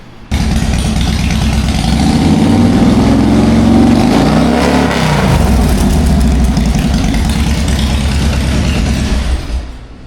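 A 2003 Harley-Davidson Springer Heritage motorcycle engine revs hard and loud throughout, rising and falling through a couple of throttle pulls before settling near the end.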